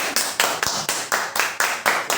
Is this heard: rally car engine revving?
no